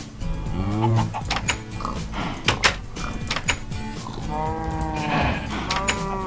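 Several cows moo repeatedly in Minecraft, with overlapping drawn-out calls alongside farm ambience and short clicks, fairly loud and close throughout.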